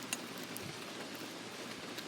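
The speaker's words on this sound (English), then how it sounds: "Oh wait, never mind. It's raining." Steady rain falling on a camper during a small thunderstorm, heard as a constant soft hiss of drops with a few brief sharper taps, fairly quiet and even throughout.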